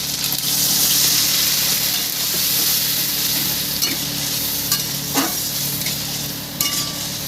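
Chana dal with turmeric powder and ginger paste sizzles loudly in a pan, with a strong steady frying hiss and occasional scraping knocks as it is stirred.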